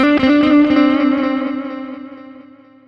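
A guitar note rings through a ping pong delay effect, its repeats bouncing in quick succession and gradually decaying over a few seconds, loud and clear with no talking.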